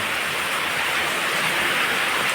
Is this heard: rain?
yes